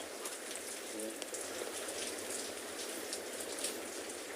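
Steady rain at a penguin beach patters and hisses across the whole clip, a dense even wash of drops with no voices.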